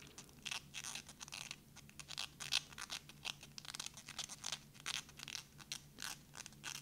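A zip tie ratchets tight in quick, repeated crunchy clicks, close up and steady over several seconds, with no talking.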